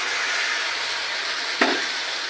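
Fried spices in a pan for a spicy doi katla fish curry, with cashew paste just added, giving a steady loud sizzle and a single brief clatter near the end.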